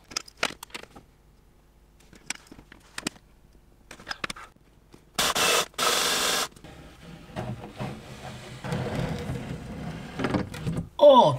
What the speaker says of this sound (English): I need to drill more holes.